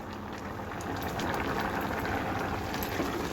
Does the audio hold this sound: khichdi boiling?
yes